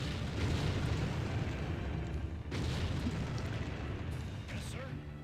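Artillery fire in the Empire Earth strategy video game, a dense sustained roar of booms and blasts that dips briefly midway, with a voice heard faintly underneath.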